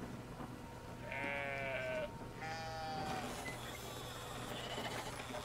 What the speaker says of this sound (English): Okay, I'm moving a sheep.